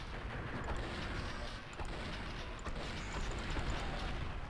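Gunfire from the video game Blood and Bacon, a dense, continuous roar of shots and booms that stays loud and unbroken throughout, with no clear pauses between blasts.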